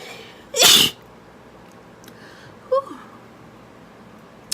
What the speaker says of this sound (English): Okay, I had to sneeze.